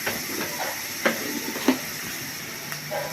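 Garlic paste sizzles in a pan with frying chopped onions for a tilapia curry, a steady close hiss broken by a few soft clicks and stirring scrapes.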